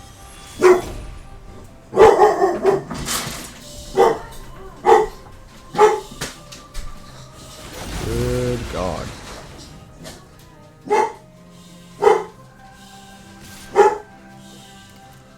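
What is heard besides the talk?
dogs barking in a Magic: The Gathering video game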